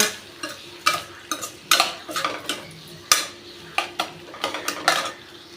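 Narthangai citron is sautéed in a pan, with a soft sizzle under frequent close clinks and scrapes of a metal spoon against the pan in a loose, irregular rhythm.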